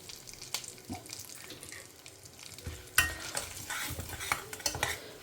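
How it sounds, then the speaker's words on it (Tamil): Spice powders such as sambar powder and turmeric being stirred while they fry in oil, with soft sizzling under scattered scraping and clinks of the spoon against the pan, close by. "ஒரு கலக்கினேன்னா அந்த பொடி வந்து எண்ணெயில் நல்லா பொரியும்."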